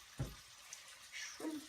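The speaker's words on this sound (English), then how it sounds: "Shrimpy. Boiling in the wok." Shrimp cooking in a wok gives a faint, soft sizzle, broken by two brief louder bursts near the start and the end.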